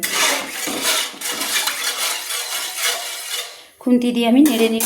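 Metal spatula clatters and scrapes inside a pot of salted water, a steady run of clinking strokes followed by a brighter ringing knock of metal on metal.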